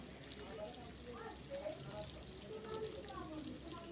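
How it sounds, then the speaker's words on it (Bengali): Koral fish frying in a pan, a steady soft sizzle with faint clinks running through it, under light background noise with no voices. "এক পিঠ ভাজা হয়ে গেলে বেশি মচমচে করে ভাজবেন না।"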